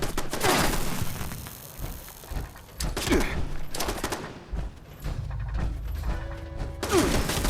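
A pulse grenade goes off in the game Fallout 76 amid a burst of gunfire and crashing impacts, loud and repeated over several seconds with a brief electronic tone near the end.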